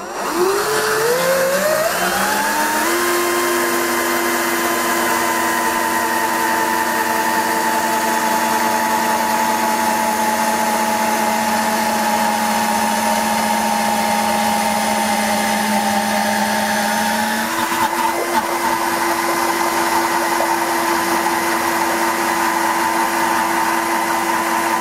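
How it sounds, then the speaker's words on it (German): An electric drill boring a 12 mm hole into the body of an acoustic guitar for a soundhole pickup install, starting with a rising whine that settles into a steady, loud, sustained hum for over twenty seconds, alone without voices. "Und den stecken wir jetzt dann rein und bohren das Loch auf 12 mm auf"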